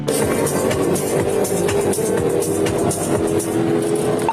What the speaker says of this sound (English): Before the trooper even had a chance to engage his lights, the Hellcat punched it and the chase was on.